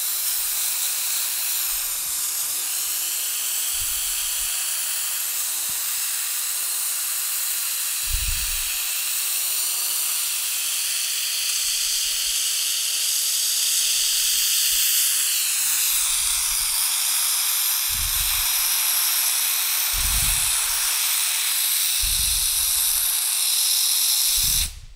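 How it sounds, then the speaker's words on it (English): Handheld steamer used on a Porsche one-piece mirror paint protection film wrap, a loud, continuous hiss throughout, with faint low thumps now and then underneath. "Let's try it again with the steamer."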